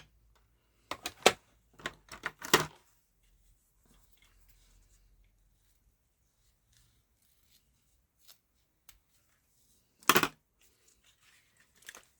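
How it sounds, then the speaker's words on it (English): Ribbon being cut with scissors for a Christmas craft card, a few short crisp snips in a quick cluster, then a lone snip after a long pause, close and quiet with no talking. "So let's cut the ribbon."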